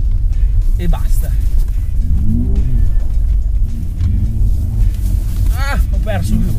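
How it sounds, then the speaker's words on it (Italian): A Mercedes-AMG car sliding on snow and ice with little traction: a low, steady engine rumble with rising revs holds throughout, with talk over it. "La macchina non ha trazione, c'è ghiaccio"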